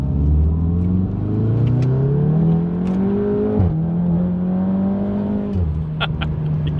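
A Volkswagen Golf R, Stage 3+ tuned four-cylinder, accelerates hard with a loud, steady engine drone climbing in pitch through gear changes around four and six seconds, heard from inside the car.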